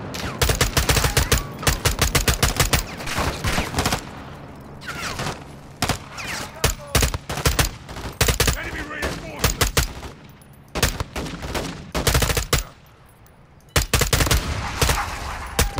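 Rapid gunfire in the Modern Warfare 2 campaign, with bursts and single sharp shots from weapons including a P90, coming in dense clusters separated by brief lulls over ambient battle noise.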